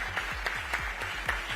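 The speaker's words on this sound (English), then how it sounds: "let's have another round of applause for another inspiring session" Applause from a conference audience at a global forum session, a steady wash of clapping with a few sharper individual claps standing out, moderately loud and continuous, with a low rumble underneath.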